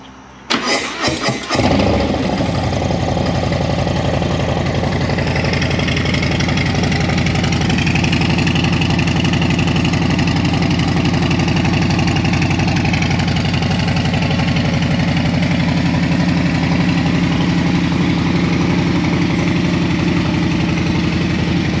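A 2020 Harley-Davidson Low Rider S with a Stage 1 setup and TBR and S&S parts fires up with a brief cranking stutter, then settles into a loud, steady, deep idle that runs throughout with no voices.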